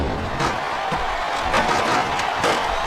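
A capacity arena crowd at WrestleMania 22 roars continuously, with dense loud cheering and shouting swelling in a few bursts and no clear talk over it.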